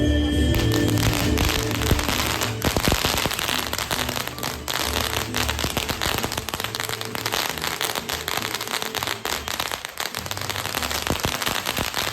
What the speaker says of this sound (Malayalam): പിന്നെ നല്ലൊരു ഫയർ ഷോ ഉണ്ടായിരുന്നു അതിൻ്റെ കുറച്ച് ക്ലിപ്പ് ഞാനിവിടെ ആഡ് ചെയ്യാം